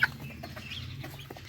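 Chickens on a small farm cluck softly in short, low murmurs, fairly close and quiet, with a brief louder note at the start.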